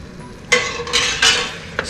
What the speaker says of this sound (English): Stir it in. Keep stirring.